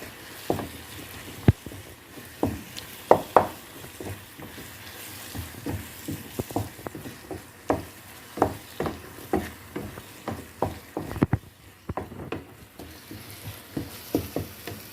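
A spoon or spatula stirring a seafood-style filling with soy sauce in a pan, giving a run of irregular scraping taps and clacks over a soft sizzle, close and moderately loud.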